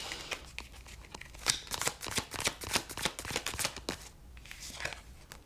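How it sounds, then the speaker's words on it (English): A deck of cards being riffled and shuffled close by, in quick bursts of crisp flutters, fairly soft overall. "Bad shuffle."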